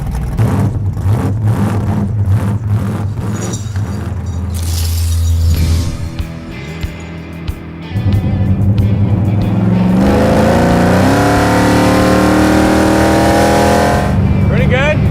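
Cars drag racing on a frozen ice track, with loud engines revving hard and roaring past nearby, a brief lull midway, then sustained high-revving acceleration building again.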